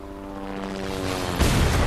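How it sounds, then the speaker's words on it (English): A helicopter in the Resident Evil 2 video game drones with a steady tonal hum, then a louder rushing burst of rotor noise cuts in near the end. "Is that the helicopter?"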